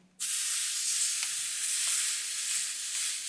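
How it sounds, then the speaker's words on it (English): Meat searing on a Qtensils hot plate, a loud steady sizzle that bursts in abruptly and holds close and constant with no talk. "So we'll sear this off on all sides and then we'll get it into the other smoker."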